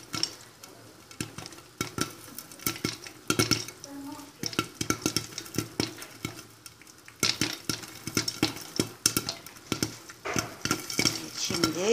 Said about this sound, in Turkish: Şimdi tencere dolusu mısırımız patlıyor.